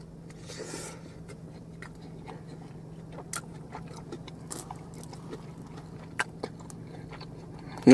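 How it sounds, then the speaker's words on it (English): Someone bites into and chews Little Caesars bacon-wrapped deep dish pizza, producing soft, quiet crunches and scattered wet clicks close to the mic over a low steady hum. "And the first bite is delicious"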